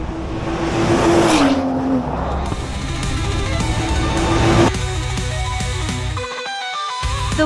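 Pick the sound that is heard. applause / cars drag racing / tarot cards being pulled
cars drag racing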